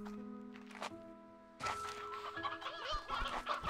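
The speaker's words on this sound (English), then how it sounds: "Look at all those chickens." Chickens cluck in the video game Slime Rancher 2, a few near clucks and squawks over soft game music, then a busier burst of overlapping bird calls.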